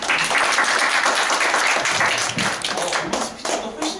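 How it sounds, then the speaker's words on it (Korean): Audience applause welcoming a sales team leader's lecture on apartment sales know-how, a dense, steady patter of clapping filling the room for about four seconds, with some voices mixed in. "특강을 박수로 맞이해주십니다"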